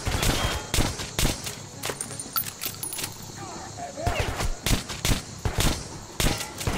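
Rapid pistol shots in the shooter game Metro Last Light Redux, a string of sharp close cracks scattered across the moment amid game ambience and other combat noise.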